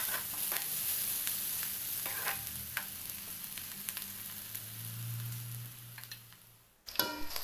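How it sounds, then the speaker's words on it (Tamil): Onions with salt sautéing in oil in a pan, a continuous low sizzle with scattered crackles and occasional spoon scrapes, close and fairly quiet, ending in a sudden louder clatter of stirring. "உப்பு சேர்த்துட்டு மறுபடியும் நல்லா வதக்கிக்கணும்."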